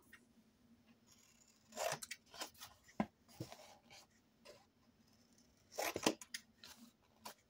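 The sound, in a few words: cutting paper for a mini album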